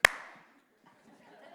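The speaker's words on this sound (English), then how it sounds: "You always know it's not genuine when the first clap sounds like this." A single hand clap rings out sharply at the start, then decays quickly into near silence with faint room noise afterward.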